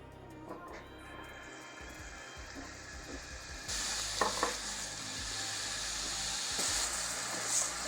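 Second batch of mushrooms frying in olive oil and butter, a continuous hiss that grows louder partway through, with occasional stirring clatter and scrapes.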